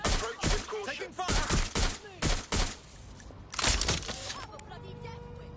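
Bursts of gunfire in the Watch Dogs: Legion video game, several loud clustered volleys in quick succession, then quieter with game sounds and radio-style voices.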